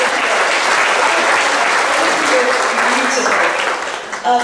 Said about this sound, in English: can we all just clap hands?